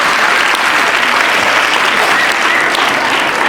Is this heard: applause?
yes